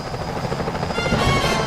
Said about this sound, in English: Security choppers are bad